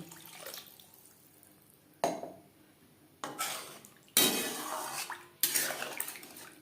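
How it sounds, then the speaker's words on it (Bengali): Water is poured in bursts into an eggplant and bata fish curry in a pan, several short splashing gushes separated by quiet gaps, with faint clinks of the vessel and no talking. "বেগুন প্রায় সেদ্ধ হয়ে এসছে এই পর্যায়ে দিয়ে দেব জল"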